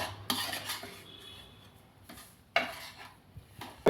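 Semolina roasting in ghee in a pan, heard as scattered metal spoon scrapes and clinks against the pan with soft rustling between, close up and fairly quiet, no voices.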